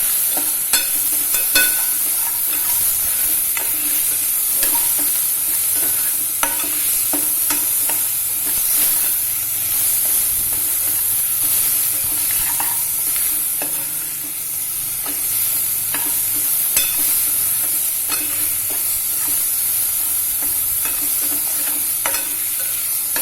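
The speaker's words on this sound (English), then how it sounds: "I want slightly browned onions, not completely charred like we make for birista, but slightly browned." Onions frying in a pan until slightly browned for a Koli-style red dal, a loud continuous sizzle with sharp spatula scrapes and taps recurring throughout.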